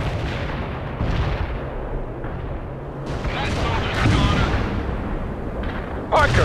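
Heavy artillery fire booms across a battlefield in World in Conflict during the fight for Pine Valley, with repeated deep blasts and rumbling impacts layered over continuous combat noise while radio-style voices talk over it.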